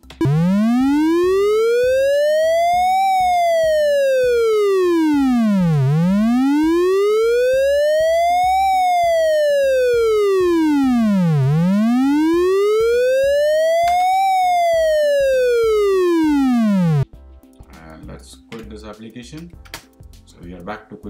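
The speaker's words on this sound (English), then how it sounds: "What about siren?" Siren effect from an MS QuickBasic demo program on MS-DOS, a loud synthetic tone sweeping slowly up and down in three smooth wailing cycles, then stopping abruptly before keyboard typing and faint noise follow.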